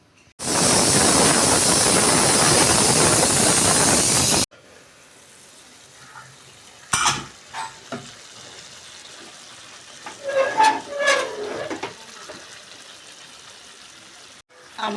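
A pressure cooker whistle shrieks loudly and steadily as steam vents while chicken tehari cooks, stopping abruptly after about four seconds, followed by quieter kitchen clatter and handling noises.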